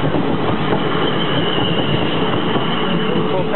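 A four-coach Class 455 electric train runs past a level crossing at Farnham station, giving a loud, steady roar of wheels and rail noise that holds for the whole stretch with no talk.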